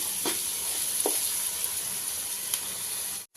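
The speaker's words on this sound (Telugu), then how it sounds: "మనకి ఆనియన్ కూడా జల్దీ ఫ్రై అయిపోతుంది" Onions fry in a pan, giving a steady close sizzle and hiss with a few faint soft ticks, no voices.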